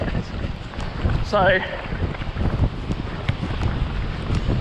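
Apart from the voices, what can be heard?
strong wind blowing on the coast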